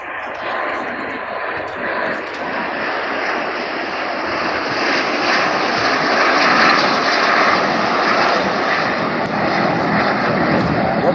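A pair of Strikemaster jet aircraft flying at the Bournemouth airshow, giving a loud, steady broadband engine roar that swells gently as they pass, sustained throughout with no talk over it.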